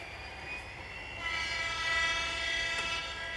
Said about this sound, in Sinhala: ක්ලාස් M9 කියන දුම්රිය ශ්‍රී ලංකා දුම්රිය සේවය සතු